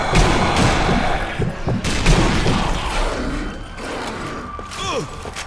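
Gunfire in the zombie shooter Zombie Army Trilogy, several loud sharp shots and bursts in quick succession over a busy game soundscape, with a mechanical clatter and a falling whistle near the end.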